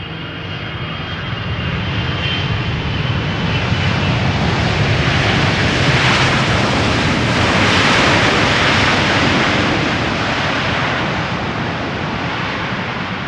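A Boeing 777-300 jet airliner arriving from Vancouver lands at Amsterdam Schiphol, a loud, steady broadband engine roar that swells and peaks as it passes, then slowly eases, heard alone without talk.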